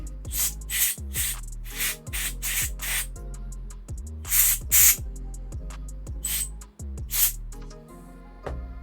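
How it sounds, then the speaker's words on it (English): Short blasts of compressed air cleaning out a screw hole while building a Voron V0.2 3D printer: several sharp, hissing bursts in an uneven rhythm, heard close over steady background music. "And now we are going to clean the screw hole a little bit. Take some compressed air."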